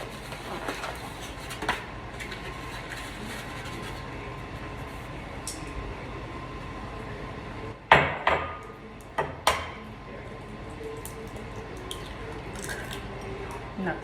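Two eggs cracked for a sweet potato pie, heard as a few sharp cracks and taps against a bowl in quick succession over steady background noise.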